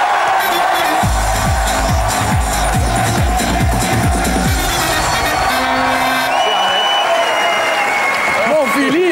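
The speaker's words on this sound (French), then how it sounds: "je vous demande d'applaudir très fort, s'il vous plaît, Monsieur Philippe Bouvard." Television studio audience applauding Philippe Bouvard on a French talk show, loud sustained clapping with cheers and whoops, mixed with music and voices.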